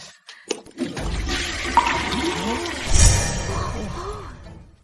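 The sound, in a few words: automatic flush toilet flushing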